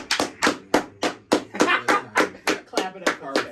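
A small group clapping together in a tight, even rhythm, about a dozen sharp, loud claps spaced roughly a third of a second apart, close by and with no talk over them.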